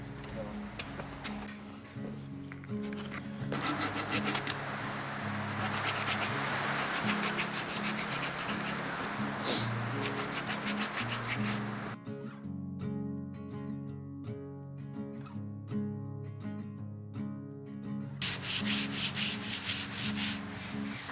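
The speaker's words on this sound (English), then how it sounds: "Must I sand them up nice?" Wood pieces being sanded by hand during a home renovation, a steady close rasping rub that continues throughout, with voices talking over part of it.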